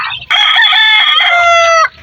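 A single loud rooster crow, close and clear, lasting under two seconds.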